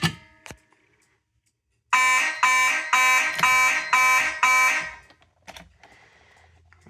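Fire alarm system sounding a pulsating alarm during a test, six loud, evenly spaced harsh buzzing pulses in a row after a short silence, followed by faint clicks and handling noise.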